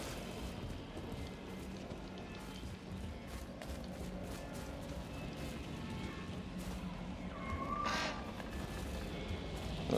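Birds caw in the video game Outriders: Worldslayer, harsh calls scattered over a dense, noisy game ambience with a brief sharper cry near the end, and no clear talking.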